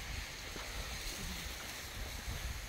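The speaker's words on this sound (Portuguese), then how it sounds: "esse barulho aqui é água aguando o capim" Water sprays to irrigate grass on a farm plot, a steady broad hiss and rush of falling droplets heard close and continuous, with no talking over it.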